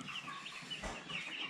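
Cobb 500 broiler chickens, large well-fed birds about 50 days old, clucking continuously in a dense flock, with overlapping calls close by and no voices.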